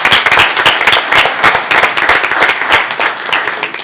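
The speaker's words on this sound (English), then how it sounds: "they really deserve, you know, our appreciation and applause." Audience at a township reorganization meeting gives a loud, sustained burst of dense applause, many hands clapping together with no talking over it.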